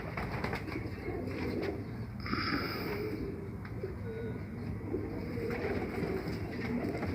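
Pigeons coo softly with brief wing flutters and rustling throughout, close by, over a constant low background noise; no clear talk.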